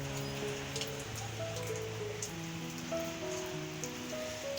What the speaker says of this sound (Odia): ମେଘ ଦେଖିପାରୁଥିବେ ପକଉଛି, ପକେଇଲାଣି।